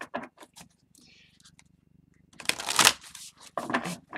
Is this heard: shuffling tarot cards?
yes